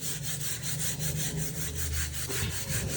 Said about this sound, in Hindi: अब मैं सोच रही है जो काला से है, क्यों ना मैं तब तक इसको रगड़ के देखूँ, क्या पता आ ही जाए।